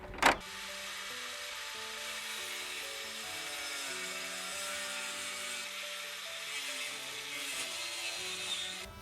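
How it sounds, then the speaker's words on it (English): Angle grinder cutting into a car dashboard on a Nissan 240SX drift build, a steady broadband whine running continuously for the whole stretch after a brief sharp hit at the start, close and loud with no talking. "So we've got our angle grinder here"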